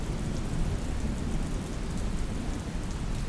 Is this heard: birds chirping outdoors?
no